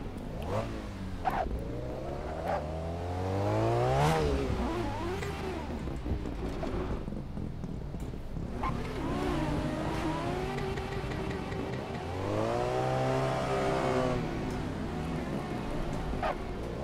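A Nissan Skyline in the Assetto Corsa driving game revs hard while drifting, its engine note climbing and falling in repeated sweeps with tire noise. The sound is loud and continuous, with a voice talking over it at times.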